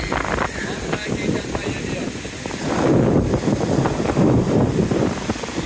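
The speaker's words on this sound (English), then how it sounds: "Very windy." Steady wind on a beach in Playa del Carmen buffets the microphone with a broad roar that swells louder midway, surf noise mixed in, and a voice speaks over it.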